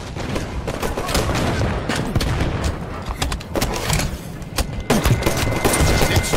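Sniper rifle fire in a Halo 5 multiplayer match: loud, dense bursts of overlapping shots and booms that run without a break through the whole stretch.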